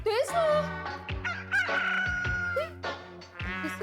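A rooster crows loudly and repeatedly, one long drawn-out call in the middle, seemingly from inside a house or cupboard during a comedy scene, over steady background music.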